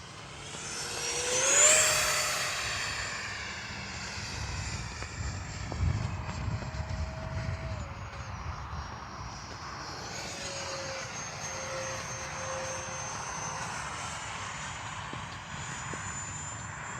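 An FMS 64mm F-16 Thunderbird RC jet with its small electric ducted fan whines steadily in flight, swelling loudly as it passes close early on, then holding a fainter, shifting whine with pitch changes as it flies around.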